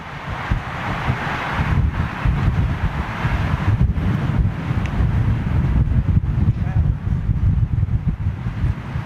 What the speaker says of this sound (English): wind's picking up a little bit here